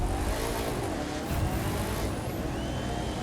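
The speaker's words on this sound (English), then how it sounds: "Listen to the engine." Car engine from The Crew 2 racing game, a steady broadband drone with a constant low rumble throughout, loud and continuous without speech.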